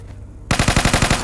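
Rapid automatic gunfire from a gun in Minecraft Bedrock Edition during a zombie apocalypse survival game near a military camp, a loud burst of about nine evenly spaced shots starting abruptly and running to the end, with no talking.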